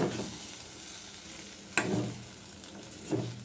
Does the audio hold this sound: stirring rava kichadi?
yes